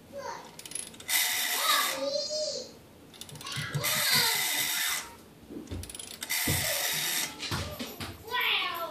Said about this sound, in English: I'm going to go ahead and dial the Western Electric phone.